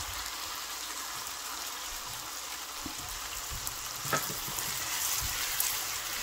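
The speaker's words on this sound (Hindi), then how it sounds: "इसको भी जनाब हमने इस तरह से भून लेना है टमाटर के साथ" Chopped tomatoes and two to three chopped green chillies fry in a pan for a chana dal palak curry, giving a steady close sizzle with a few soft scrapes of stirring and no talk.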